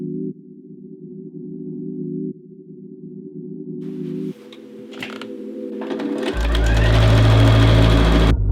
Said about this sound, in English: sew it to finish the lining